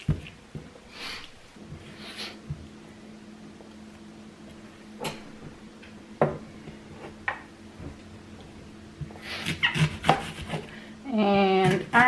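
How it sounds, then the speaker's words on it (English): A knife slices through food on a cutting board, making a few scattered cutting taps while air fryer kabobs are prepared. Faint background hum and light handling noises fill the gaps, with a denser burst of clatter near the end. "I'm just gonna cut a few slices like that"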